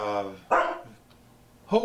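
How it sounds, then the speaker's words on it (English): A dog gives a few sharp barks near the front door indoors, with a tonal opening bark, a gap and another bark at the end, heard close and fairly loud. "She must hear something, and so she's barking about it."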